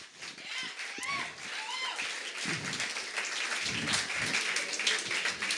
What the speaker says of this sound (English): continue your applaudery for Isaac Grambo